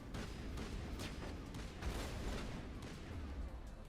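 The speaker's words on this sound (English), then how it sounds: "They're still shooting." Enemy gunfire in the Mass Effect sci-fi shooter rattles on steadily, repeated quiet shots and distant blasts in a dense, faint battle mix with no voices.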